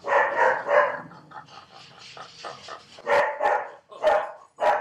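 Dogs bark in short loud bursts close by, a cluster at the start and more sharp barks near the end, with softer yips and whimpers in between.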